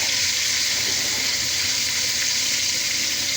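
Vegetables hitting a hot frying pan give a loud, continuous close-up sizzle with dense hissing and no voices.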